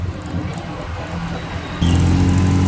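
During a test drive, the X&Y XY150 UTV's engine runs at a moderate drone, then jumps abruptly louder and fuller partway through as it rumbles on, with nobody speaking.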